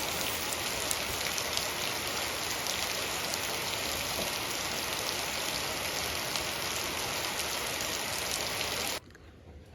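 Heavy rain pours steadily onto a flooded household courtyard, a dense, loud, unbroken hiss that cuts off abruptly near the end, with no voices.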